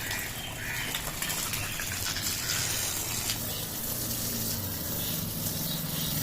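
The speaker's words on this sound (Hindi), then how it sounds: "अभी ना इसको लगाते हैं पानी।" Water poured onto freshly planted grass in a small outdoor mud play garden, a steady rushing, splashing flow that holds constant for several seconds with no talk over it.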